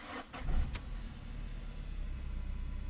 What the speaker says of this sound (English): this is how you start your car